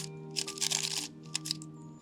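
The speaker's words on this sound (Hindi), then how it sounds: "अगर मैं 3x3 क्यूब को भी शफल कर दूँ" A 3x3 Rubik's cube being scrambled: quick plastic clicking and rattling twists in a couple of short flurries, close up, over a steady low background hum.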